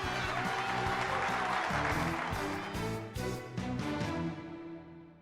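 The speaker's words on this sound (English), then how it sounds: "Let's send them both off with a warm round of applause" Applause from a crowd in the Super Robot Wars Y video game, a steady, fairly loud burst of clapping lasting several seconds over game music, fading slightly toward the end.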